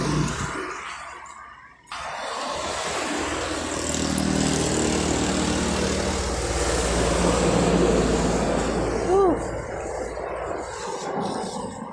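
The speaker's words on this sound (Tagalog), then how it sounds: "Lakas ng ulan." Heavy rain pours down during a motorbike ride from Basud toward Labo and Daet, making a dense, continuous hiss over a low engine rumble.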